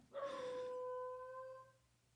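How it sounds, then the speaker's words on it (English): A pet dog in a crate by large sliding glass doors lets out a single drawn-out howl, clear and tonal, rising sharply then holding before fading out over about a second and a half, close to the microphone with no talk. "That was my dog howling."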